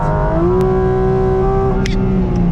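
A Porsche GT4 RS runs flat out on the Spa circuit, its engine a loud sustained drone with a steadily rising pitch heard from inside the car, with a couple of brief clicks over it.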